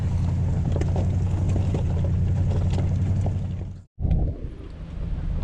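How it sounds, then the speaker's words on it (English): Truck engine labouring steadily up a steep, rocky wilderness trail in the Beartooth area, a constant low rumble with wind buffeting, briefly cutting out near the end before resuming. "I'm driving a really steep and rocky section"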